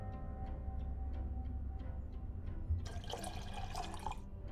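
Water pouring into a photo-developing dish in Black Mirror 2, a quiet splashing trickle starting abruptly partway through after soft ticking drips, faint and alone.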